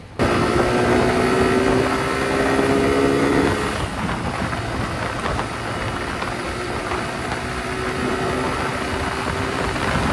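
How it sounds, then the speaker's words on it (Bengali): A Royal Enfield Bullet motorcycle fitted with a loud aftermarket exhaust rumbles continuously on a highway ride, a steady heavy engine drone with wind noise and a shift in pitch partway through. "আর বুলেটটাতে এক্সস্টও লাগিয়ে রেখেছে, ভালো জোরেই আওয়াজ হচ্ছে।"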